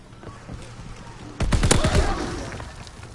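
A light machine gun fires in a video game, a sudden loud burst of rapid shots that cuts in after a quieter stretch and trails off with a rumble.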